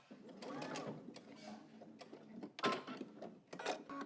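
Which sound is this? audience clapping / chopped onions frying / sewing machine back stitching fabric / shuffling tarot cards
sewing machine back stitching fabric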